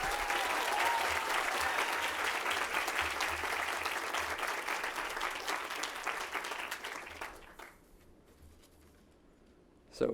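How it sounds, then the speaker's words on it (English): A crowd at the UC Davis School of Medicine induction ceremony for the class of 2025 gives a full round of steady clapping that thins out and fades near the end, ending in near quiet and a brief final bump. "Can we actually get another round of applause for Dr."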